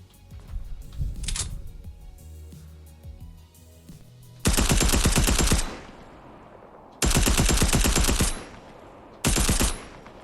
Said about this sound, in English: The first thing I'm going to test out is this tactical submachine gun.